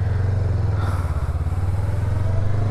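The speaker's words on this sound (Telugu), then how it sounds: "సో 2 cylinder ఇంజన్ ఇది. Let's ride." A Honda NX500 two-cylinder 500cc adventure motorcycle rides along with a steady, low, throbbing engine drone that holds even and loud throughout, with a slight dip in the middle and no talk.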